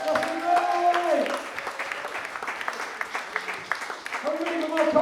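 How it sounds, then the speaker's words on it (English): Audience applause at a morning comedy show at the Edinburgh Fringe Festival, sustained clapping filling the room with cheering, while a performer's amplified voice speaks over it at the beginning and end. "let's keep that applause going, keep that energy going"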